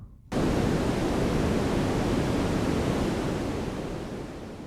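A dense hiss of synthesized noise from a DSI Pro 2 synthesizer, shaped as rain, bursts in suddenly and holds steady like heavy rain, slowly easing in volume toward the end.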